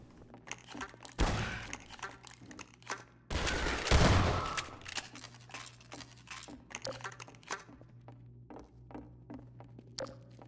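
Shotgun blasts in the video game Half-Life 2, two loud broadband bursts a few seconds apart over a steady low game hum, followed by scattered clicks and footsteps.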